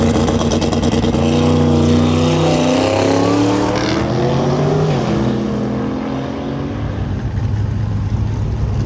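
Dodge Charger Hellcat launching on a track, a loud, close engine roaring at high revs with rising and falling tones, then settling into a strained, sustained drone without any voices.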